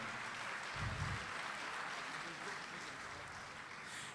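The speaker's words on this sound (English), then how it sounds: "a round of applause for him" An award-night audience at a gala gives a steady round of applause, a broad, even wash of many hands clapping at moderate distance that keeps going throughout.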